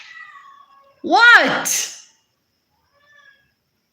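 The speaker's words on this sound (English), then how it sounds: "The cat won't stop talking." A cat gives one loud, close meow with a rising-falling wail, followed by a brief higher squeak, with a short spoken word just before it.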